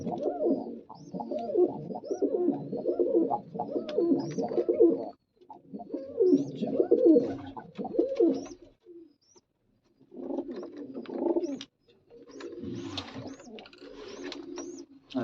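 Pigeons kept in pairs coo repeatedly in deep, throaty bursts, fairly close and steady, with short pauses between runs and a few faint higher chirps near the end.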